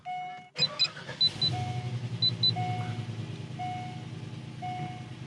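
A C5 Corvette Z06 engine cranks and catches, then idles with a low steady rumble while short electronic warning chimes for low oil pressure and trunk ajar repeat over it.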